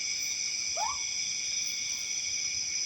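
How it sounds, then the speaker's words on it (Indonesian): A single short owl call rings out at night beside a campsite, faint and a little distant, over a steady high drone of insects. "pas ada suara burung hantu loh"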